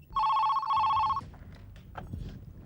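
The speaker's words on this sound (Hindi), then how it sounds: "ये लो, बेल जा रही है।" A telephone rings after a number is dialed, a loud, clear two-burst electronic trill, followed by quieter shuffling and faint room noise.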